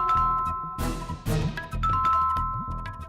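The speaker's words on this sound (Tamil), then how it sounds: "அதே மாதிரி காலிங் பெல் அடிக்குதே" A house calling bell chimes in sustained electronic tones over a backdrop of dramatic music, with a bright burst of jingling partway through.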